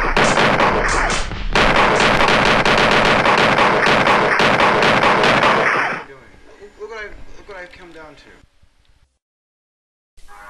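Rapid bursts of gunshot sound effects crack loudly and densely for several seconds, then give way to quieter mixed sounds and silence.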